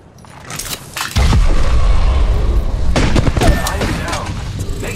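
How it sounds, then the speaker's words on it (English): Dense battle din of gunfire and artillery in a combat video game: loud continuous booms and crackling bursts rolling together, heavy and close, with a game voice speaking over the fire. "Opening fire on the enemy."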